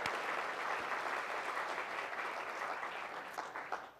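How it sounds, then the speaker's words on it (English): A lecture audience gives a round of applause for a patron at a distinguished lecture, a full, even burst of clapping that thins and fades toward the end. "So just a little round of applause for Clarice."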